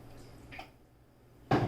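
Water is poured into a bowl of flour, chopped onion, tomato and seasoning while making breakfast, heard as a sudden, close, splashing rush near the end after a quiet stretch with a faint drip.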